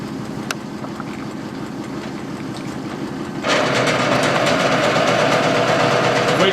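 A Falex oil test machine running a load test on S3 oil, a steady mechanical hum and whir that jumps abruptly louder and brighter partway through as the load increases, continuing as a constant drone.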